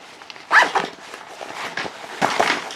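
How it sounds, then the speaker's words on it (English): Metal zipper slider on an Eastpak backpack, pulled along the inner compartment track in a few quick, close, scratchy bursts, with softer rasps in between. "another Eastpak zipper and slider for the inner zippered compartment"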